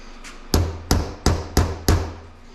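Hammer striking a chisel to pry a harmonic balancer off a 7.3 Powerstroke engine: five sharp metallic blows at an even pace, loud and close, each ringing briefly.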